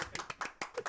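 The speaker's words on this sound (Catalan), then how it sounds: "Aplausos enlatados." Canned applause from a tablet: a short, faint burst of rapid clapping, less than a second long.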